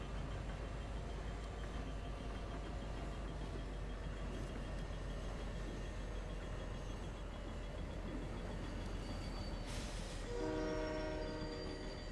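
A train in the Fortnite video game rumbles steadily and loudly throughout, with a horn blast sounding near the end over the continuous rolling noise; no one speaks.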